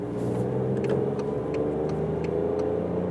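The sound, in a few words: Toyota Aygo X car accelerating in second gear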